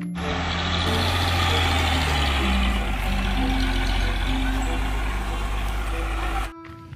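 A toy tow truck whirs with a loud, steady motor drone while a series of reversing beeps repeats over it, then the noise cuts out abruptly near the end.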